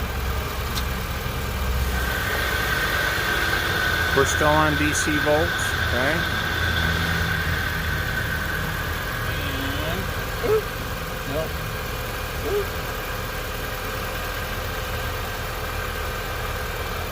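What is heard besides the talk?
car engine idling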